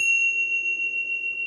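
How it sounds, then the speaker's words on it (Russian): Small bells cast from seven alloys ring out with one pure, sustained tone that holds steady and close for the whole moment, with no voices over it. "Из семи сплавов вот такие колокольчики"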